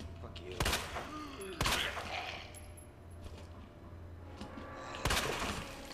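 Gunfire in the Resident Evil 2 Remake video game: three sharp, loud shots spaced a second or more apart, each followed by a short ringing tail over a low steady hum.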